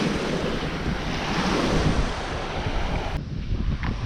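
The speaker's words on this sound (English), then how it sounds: "more ripple on the sea today. It's a little bit of a breeze." Sea waves rippling under a light breeze at a Koh Samui beach in Thailand, a steady rushing wash mixed with wind buffeting the microphone that drops away sharply near the end.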